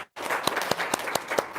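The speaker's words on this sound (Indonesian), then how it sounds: "Tepuk tangan dong, luar biasa." Audience applause at a seminar, a brief silence then dense clapping with several sharp individual claps standing out close by, continuing steadily to the end.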